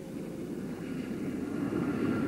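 A Tupolev Tu-144 supersonic airliner on its landing run, a steady loud low roar of engines and rushing air that swells slightly toward the end, with no voices.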